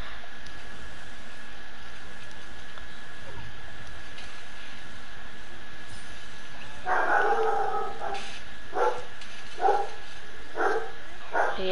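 A dog in a video game lets out a string of short, fairly loud barks in quick bursts over a steady background hum, with a quiet stretch beforehand.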